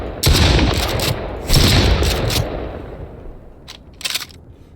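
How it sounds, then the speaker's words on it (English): Rapid bursts of pellet-gun fire from a video game as the whole magazine is emptied, two dense volleys followed by a few scattered shots, loud and close with no talking. "I'll empty the entire mag."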